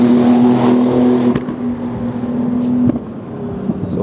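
Renault Sport R.S. 01 race car, a 550 hp, 1120 kg downforce machine, driven hard around the Jerez circuit, its engine holding a steady loud drone with a couple of sharp shifts or blips, heard alone without talk.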